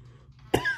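A single sharp cough bursts out after a quiet lead-in, close and fairly loud, followed by a brief rough throat sound, from a person wire-wrapping beads for an anklet while suffering allergies.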